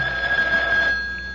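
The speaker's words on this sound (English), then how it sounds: "and the phone rings." A telephone rings in a shop: a single sustained electronic ring, fairly loud and close, fading out at the end with no talk over it.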